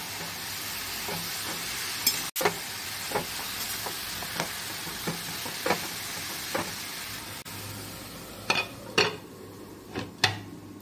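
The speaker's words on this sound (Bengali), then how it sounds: "লাউটা এখন ভালো করে নাড়াচাড়া করে 10 মিনিটের জন্য ঢাকা দিয়ে রাখবো।" Bottle gourd stirred in a pan on the stove: a low steady sizzle under a string of spoon scrapes and clinks against the pan, growing sharper and louder toward the end, with no talking.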